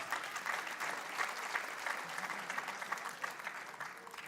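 A church congregation at a Spanish-language service applauds steadily, a dense, fairly soft wash of many hands clapping that holds evenly throughout with no voices standing out.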